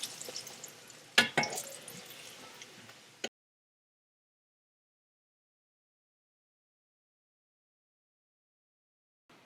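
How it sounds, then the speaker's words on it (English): Crackling sizzle of food frying in hot oil for about three seconds, with a couple of sharp pops, then silence. "You get a frying pan with some oil."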